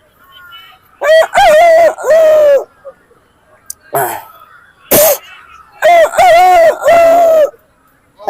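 A man imitates a rooster crowing, giving two drawn-out, wavering crows separated by a few short, sharp vocal bursts, loud and close with no other sound around them.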